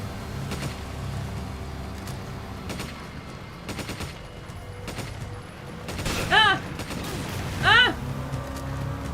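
Gunfire in the video game Resident Evil 5 during a boat ride: sporadic bursts of shots over a steady engine drone, with two louder swelling sounds later on.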